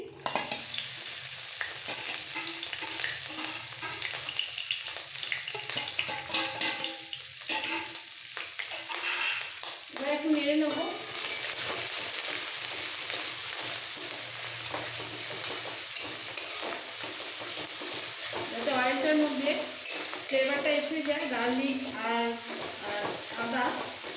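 Grated garlic, ginger and green chillies hit hot oil and sizzle steadily in a pan, with stirring scrapes and intermittent talking over the frying.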